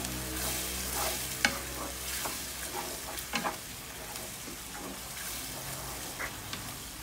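Fish balls stir-fried in green curry paste in a pan, with a soft continuous sizzle and repeated scraping stirs, one sharp clack early on, all quiet and close with no talking.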